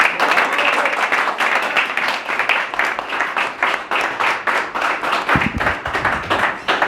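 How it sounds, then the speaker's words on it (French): A group at a Belgian golf influencer event claps together, giving a close, crisp patter of hands with a loose rhythmic pulse that keeps up steadily throughout. "on peut déjà tous s'applaudir"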